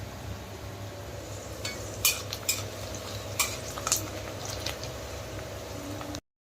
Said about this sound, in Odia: ମୋର ଏଠି ପିଆଜ ଭଜା ଚାଲିଛି